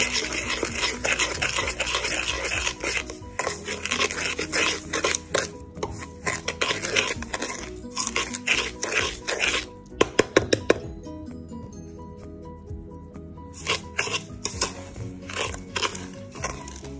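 A whisk beats sugar into egg yolks in a bowl while making crème pâtissière, tapping and scraping in quick, uneven bursts of rhythmic clinking against the bowl, close and fairly loud, with a few sharper metallic knocks near the middle.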